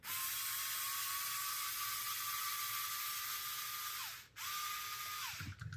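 A ratchet works on a steering link of an FMS FCX10 Toyota LC80 RC truck, a steady close whirring clicking run that pauses briefly near the end and then resumes, with no talk.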